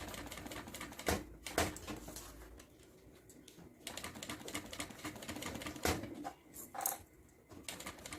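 A sewing machine runs in short bursts of rapid mechanical stitching as it closes the side seam of a fabric Kindle or tablet case, with pauses between runs, heard quietly and close up.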